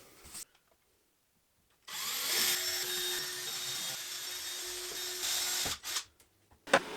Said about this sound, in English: I needed to drill some holes in the doors, and for that I made another 3D printed template